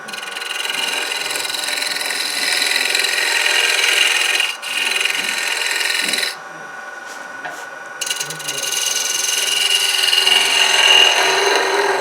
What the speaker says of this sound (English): I'm going to turn another bowl, this time cone shaped